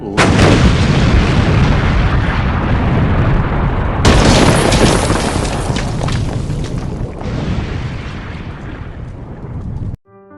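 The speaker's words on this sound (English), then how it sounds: "And liftoff." A rocket lifts off with a deep, loud, continuous roaring rumble that fills the whole stretch, swelling abruptly midway and then cutting off near the end.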